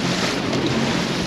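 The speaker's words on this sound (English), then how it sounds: "these waves are a little big out here." Boat pounding across big waves on Lake Erie, heavy wind and water roar filling the clip loudly and continuously, with no talking.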